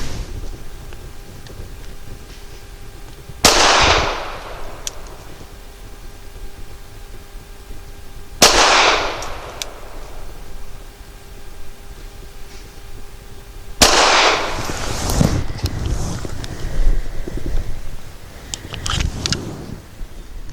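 Three sharp, loud pistol shots from a SCCY CPX 3 firing PNC Gold Starfire 95 grain hollow points, spaced several seconds apart outdoors, each with a short echoing tail over low background noise.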